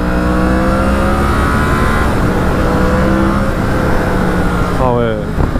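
A Yamaha MT-10 SP motorcycle accelerates hard, its engine note rising steadily in pitch and staying loud and close, then easing off near the end with a quick shift, over heavy wind rush.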